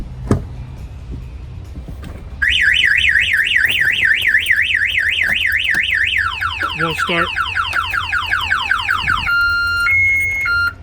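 A 2019 Freightliner Cascadia truck's anti-theft alarm goes off loudly after a brief spoken remark, cycling through rapid warbling siren tones, then falling sweeps, then steady alternating beeps.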